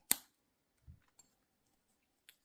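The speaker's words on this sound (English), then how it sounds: "And cut the yarn off." Scissors make one sharp snip through crochet yarn, close and crisp, followed by a soft low thump and a few faint small ticks in an otherwise quiet room.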